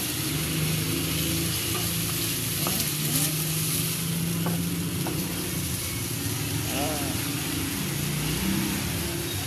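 Mixed vegetables with sardines bubble and sizzle steadily in a pan, a continuous close simmering hiss with soft stirring scrapes, and a voice briefly speaks over it.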